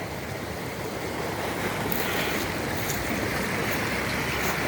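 Water churns through a stream in a gully, giving a steady broadband rushing roar heard from nearby and holding even for the whole stretch, with some wind buffeting and no talking.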